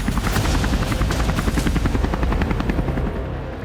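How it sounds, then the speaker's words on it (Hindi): Belarusian military helicopters flying close, a loud, steady rotor thump with rapid rhythmic blade chopping and a continuous engine roar, with no voices. "जिसमें बेलारूसी हेलीकॉप्टर उड़ते हुए दिख रहे थे"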